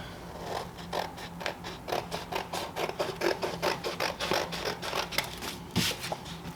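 Excess vinyl being cut away with a blade or scissors, a steady series of short, close scraping cuts in a quick rhythm, with no talking.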